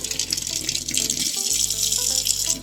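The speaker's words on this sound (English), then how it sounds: "Just take the egg, run it under some cold water." Cold water runs from a tap over an egg held in the stream, a steady, close, hissing splash that keeps going the whole time without a break.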